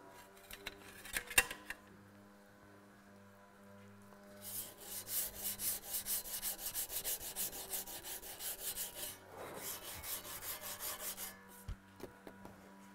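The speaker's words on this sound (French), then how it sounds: "Une lime plate." A flat file rasps back and forth across metal in steady, rhythmic strokes, close and fairly quiet, after a few scattered knocks and clinks.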